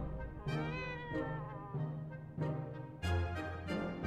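A cat in the survival game 60 Seconds! Reatomized meows several times in short, clear, close calls with slight pitch bends and brief pauses between them.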